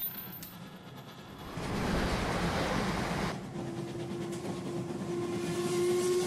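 A train rumbles steadily nearby, with a hiss of steam rising midway and a sustained whistle-like tone toward the end.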